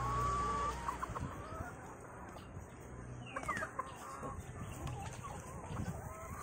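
Brown Nick layer hens cluck softly at close range over a low background murmur, with a faint voice and occasional higher bird calls.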